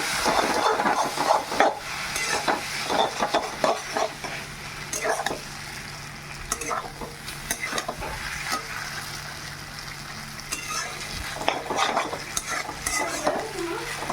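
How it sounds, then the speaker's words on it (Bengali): Maggi noodles are dropped into a pan and stirred, giving a close scraping and sizzling clatter with irregular bursts of spoon strokes over a steady low hum, with no talking. "আমি এবার ম্যাগিটা এর মধ্যে দিয়ে দিলাম"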